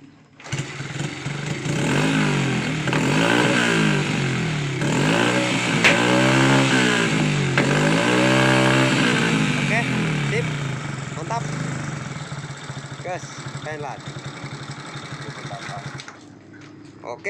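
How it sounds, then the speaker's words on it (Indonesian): Close up, a Honda Win motorcycle engine revs unevenly in repeated rising and falling surges, then settles into a rougher, quieter idle while a person talks. "seperti itu penyakit motornya ya, tidak stabil"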